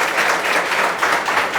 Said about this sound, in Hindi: एक बार ताली मारिए इनके लिए।